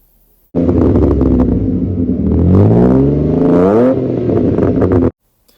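A V6 sports car engine fires up and revs hard, rising and falling in pitch as the throttle opens, loud and close with no talk.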